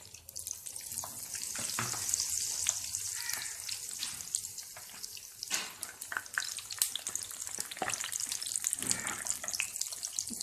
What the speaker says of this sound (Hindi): इसको अब अच्छी तरीके से हम फ्राई करेंगे।